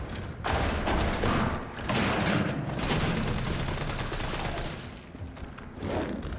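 Rapid bursts of gunfire from the video game Resident Evil 3 Remake, a near-continuous loud fusillade with booming shots filling nearly the whole stretch, dipping briefly between volleys.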